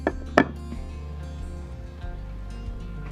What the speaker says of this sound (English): We're just gonna chop it up really small.